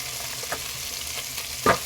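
Chopped onions and ripe tomatoes frying in oil for sambar, a steady close sizzle with a few soft stirring scrapes and a sharper clack near the end.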